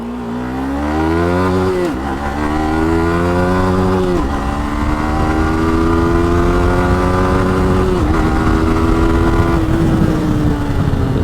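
A modified Yamaha MT-15 motorcycle engine revs hard and accelerates through several gears, its rising pitch dropping at each shift, loud and close with no talking.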